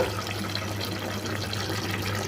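Water pours steadily into a pressure cooker of country chicken curry in a home kitchen, a continuous close rushing splash with no pauses.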